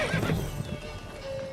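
Roach, the horse from The Witcher 3, gives a clear close neigh with hoof clip-clops, then settles into a steady ambient game soundscape with a faint sustained tone near the end.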